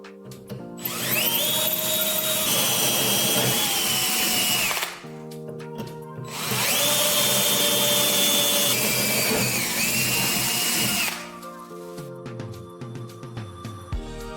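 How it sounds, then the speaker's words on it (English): A power drill bores holes through a regular metal washer, with two long, loud whining runs separated by a brief pause, then the motor winds down to a quieter hum. "Take a regular metal washer and drill 4 holes into it."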